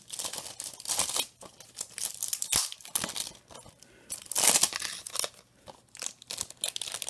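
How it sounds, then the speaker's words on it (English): Crinkly plastic wrap is peeled and torn off a Hyrule Warriors game box, with bursts of close crackling and tearing that come in uneven handfuls and short pauses between them. "I'm taking off the plastic."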